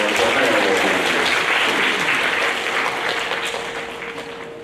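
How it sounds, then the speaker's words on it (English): An audience at a sixth grade school awards program claps for the honorees, a loud sustained round of applause that gradually tapers off over several seconds, with no talking. "How about a round of applause for Ohio Rangers?"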